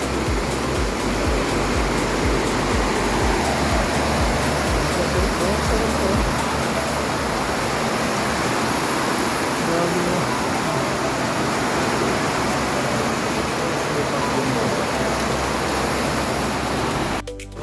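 Heavy monsoon rain pouring in Cainta, a loud, unbroken roar of dense rainfall that holds steady throughout before cutting off abruptly.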